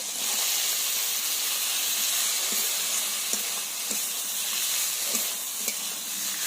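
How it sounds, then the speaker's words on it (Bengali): Boiled taro stolons fry in spiced oil, giving a loud, continuous hissing sizzle up close, with a few faint spoon knocks at irregular intervals and no talking. "সিদ্ধ করে রাখা লতিগুলো দিয়ে দিতে হবে"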